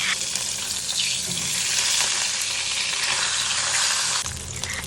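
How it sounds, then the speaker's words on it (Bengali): Steady, loud sizzling of a katla fish head frying in mustard oil, a dense crackling hiss that continues throughout with occasional sharper pops. "কাতলা মাছের মাথাটা উল্টে পাল্টে ভালো করে মচমচে করে ভেজে নিতে হবে"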